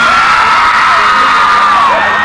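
A crowd of women yells and whoops loudly and continuously at a banda music event in La Magdalena Contreras, Mexico, with voices sliding in pitch together.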